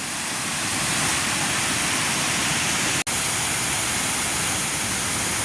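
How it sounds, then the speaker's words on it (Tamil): Fast floodwater after heavy rain, a constant loud rushing roar with a single brief dropout midway and no speech. "எவ்வளோ ஒரு வேகமாக வந்து தண்ணி பாஞ்சு கொண்டிருக்குன்னு பாருங்கள்"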